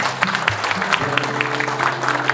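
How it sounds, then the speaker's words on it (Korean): A roomful of attendees at a regional hometown association meeting gives a short burst of steady applause, fairly loud and continuous with a low hum beneath. "큰 박수 한번 주시기 바랍니다"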